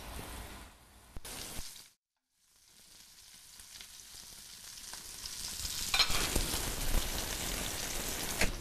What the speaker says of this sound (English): So we're going to cook these 3 to 5 minutes aside. We're just going to brown them